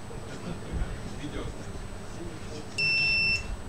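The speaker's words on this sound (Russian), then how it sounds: "Когда я нажимаю на кнопку, срабатывает противная пищалка" Harsh electronic buzzer set off by pressing a button, giving one steady high-pitched tone of about half a second under low room noise after a moment of quiet talk.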